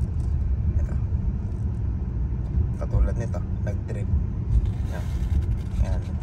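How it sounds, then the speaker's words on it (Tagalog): A car drifts and spins on a wet road, its engine and tyres giving a steady, loud low rumble, with a voice faintly present beneath it. "nagpapaikot ang sasakyan"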